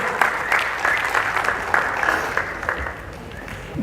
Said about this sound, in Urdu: سو بھرپور تالیوں سے استقبال کیجیے گا جناب احمد طارق